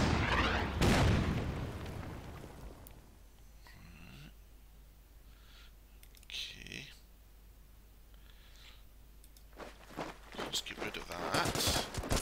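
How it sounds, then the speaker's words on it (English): Artillery bombardment in the WW2 strategy game Order of Battle: a heavy boom opens, followed by scattered quieter impacts and rumbles, with someone talking at times. "let's start bombarding that."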